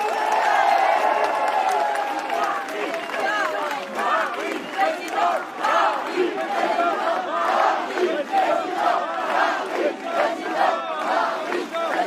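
A crowd at an outdoor political rally in the Vaucluse roars with sustained shouting and jeering, a dense wash of many voices that swells and pulses throughout, with a speaker's voice amplified over it.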